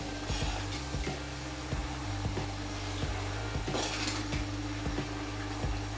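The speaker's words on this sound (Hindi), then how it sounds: "अब 1 मिनट से 2 मिनट और फ्राई कर लेते हैं।" Bitter gourd bhurji frying in a pan over a high flame, stirred with a spoon: regular metallic scrapes and clinks against the pan repeat every half second or so over a steady, soft sizzle.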